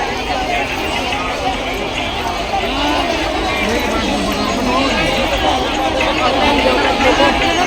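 A huge, dense crowd mills at the Shiv Mahapuran Katha gathering in Burari, Delhi, making a steady, loud roar of shuffling and babble throughout, with someone speaking over it.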